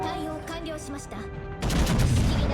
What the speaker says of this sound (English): this is probably my last salvo for the entire game